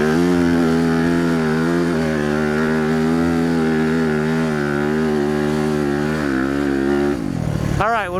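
Honda CRF250RX and Yamaha YZ250FX dirt bikes ride through sand whoops, one loud, close engine droning and revving steadily with rhythmic pitch rises and dips, then cutting off abruptly near the end.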